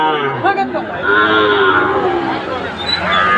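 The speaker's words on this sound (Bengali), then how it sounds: "এটা হলো গির বাছুর গির বাছুর" A Gir calf moos loudly and at length, drawn-out lowing calls filling the clip, with faint voices in the background at a cattle market in Dinajpur.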